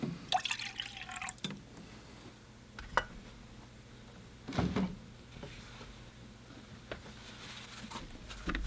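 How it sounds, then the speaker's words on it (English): Fresh water trickles and drips into an orange juice container, a faint, intermittent liquid patter with occasional louder splashes and knocks in a quiet indoor space. "So I just add some fresh water. I use a orange juice container and put my water in that."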